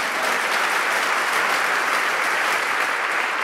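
A church congregation claps loudly and steadily for a preacher, a dense, continuous wash of many hands filling the room without pause.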